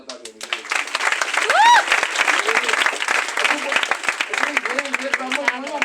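Loud, sustained applause from an audience at a family achievement event fills the whole stretch as dense steady clapping, with a voice speaking over it and a brief rising whistle-like sound near the start.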